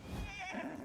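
A horse in ARK lets out a brief, faint whinny that rises and wavers, with a low hoof-like thud underneath.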